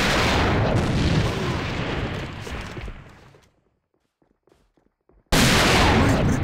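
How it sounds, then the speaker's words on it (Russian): An enemy grenade goes off in a video game as a loud, close blast that rumbles and fades over about three seconds. After a near-silent gap, another heavy burst cuts in abruptly. "Граната противника!"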